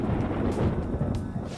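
Thunder rumbles low and steady through a video game scene, a dense continuous roll that sets in just before rain, with no voices over it.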